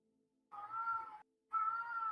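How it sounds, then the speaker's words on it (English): A cat meows twice in the background, two clear, drawn-out meows of under a second each with a short gap between, heard alone without talk. "listen to the cat in the background"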